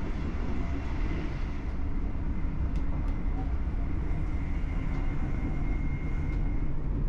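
ScotRail express train from Edinburgh Waverley to Glasgow Queen Street heard from inside, a loud, constant low rumble and rolling drone of the carriage with faint squeaks, no talk over it.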